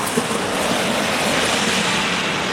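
A parked airplane at an airport gate gives off a steady, loud, broadband engine roar that holds evenly throughout with no talking.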